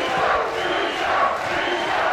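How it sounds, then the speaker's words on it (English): A loud crowd at a Caged Steel MMA cage event chants and shouts for a fighter, a rising and falling wall of voices sustained across the short stretch. "Crowd calling for Rico."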